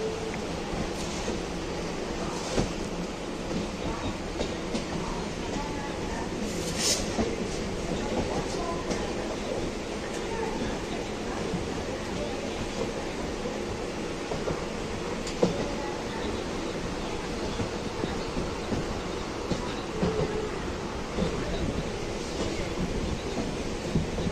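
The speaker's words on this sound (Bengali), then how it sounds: "আমাদের ট্রেন ছেড়ে দিল শিয়ালদা থেকে।" A local train pulls out of Sealdah station on the run to Ranaghat, with a continuous rattling rumble and scattered clanks heard from on board for over twenty seconds.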